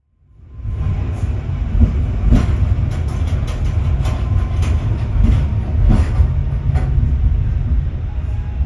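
Rumble of the Pasundan passenger train running on rails from Bandung toward Jogja, heard from inside a carriage, with a steady loud low roar and repeated clickety-clack wheel beats over the joints, no talking.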